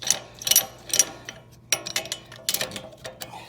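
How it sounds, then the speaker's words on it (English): A caliper squeezer compressing the rear brake caliper on a 2018 Mazda 6, heard as close, irregular bursts of metallic ratcheting and clicking with short pauses between them and no talk. "But you put your caliper squeezer in there, such as that."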